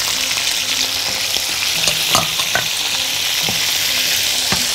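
Potatoes with green beans, tomatoes and garlic fry in a pan with a constant loud sizzle, punctuated by a few sharp scrapes and knocks of a utensil stirring the vegetables.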